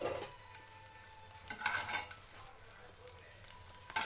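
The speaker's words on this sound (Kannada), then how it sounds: "ಇವಾಗ ಸ್ವಲ್ಪ ಶೇಂಗಾ ಎಣ್ಣೆ ಹಾಕ್ಕೊಂಡು ಸ್ವಲ್ಪ ಶೇಂಗಾ ಬಿಸಿ ಮಾಡ್ಕೊಳ್ಳೋಣ ಅಷ್ಟೇ ಸ್ವಲ್ಪ ಬಿಸಿ ಆದರೆ ಸಾಕು ಅಷ್ಟೇ ಫ್ರೈ ಮಾಡ್ಕೋಬೇಕು" Peanuts warm in groundnut oil in a pan, giving a low, soft sizzle with a few louder scrapes and clinks from stirring near the middle and end, heard close with no speech.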